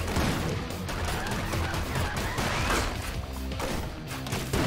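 Gun firing in the action roguelike ScourgeBringer during a boss fight, sharp bursts of shots mixed into dense, loud game combat noise with crashes and impacts throughout.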